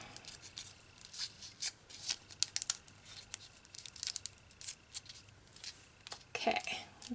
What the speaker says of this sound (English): just folding this last fold